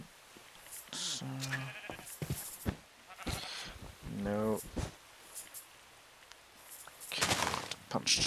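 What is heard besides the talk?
sheep bleating in a video game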